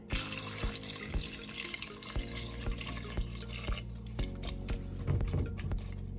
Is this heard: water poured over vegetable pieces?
yes